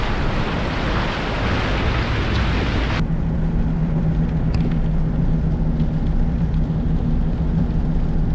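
Rain beginning to fall during a flood in British Columbia, a steady dense hiss of drops with wind and rushing water, loud at first then settling into a softer continuous patter under a low hum.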